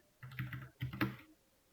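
Two short bursts of keystrokes on a computer keyboard while typing an exclamation mark, quick clicks close and fairly quiet with no talking.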